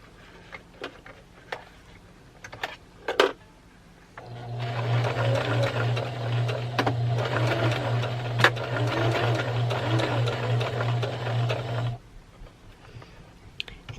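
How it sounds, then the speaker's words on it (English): A sewing machine stitching fabric slowly around a circular base: a few soft taps and handling clicks, then a steady, close mechanical whir that runs for about eight seconds and stops abruptly, followed by quiet handling. "I have pinned the rounded edge of that quarter circle to the circular base, and I'm just going to slowly start sewing around."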